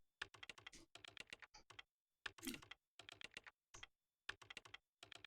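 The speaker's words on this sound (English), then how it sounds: "He's hacker typing." Rapid computer keyboard typing from the Parasite Eve video game comes in close, crisp bursts of keystrokes broken by short silent pauses, with no voices.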